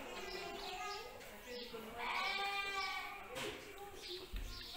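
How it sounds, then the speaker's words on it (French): Sheep on a farm bleat in several wavering calls, moderately close, overlapping with soft background chatter from people nearby. "Est-ce que c'est méchant les moutons?"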